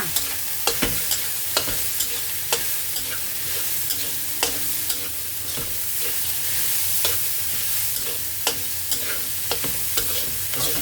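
Vegetarian fried rice with cashews, grapes and egg-free add-ins being stir-fried in a pan: a steady sizzle with repeated sharp spatula scrapes and clacks at an irregular rhythm, close and fairly loud, with no talking.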